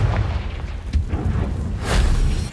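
The Confringo fire spell in the video game Hogwarts Legacy goes off with a deep, booming blast, with a rumbling swell that peaks and fades over a couple of seconds.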